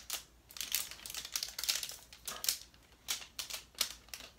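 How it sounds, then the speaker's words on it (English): Crinkly plastic packaging is pulled and torn off a DJI Phantom 4 Pro drone box, a close series of sharp rustling, crackling bursts in an irregular rhythm, with no talking. "But let's take this plastic wrap off here."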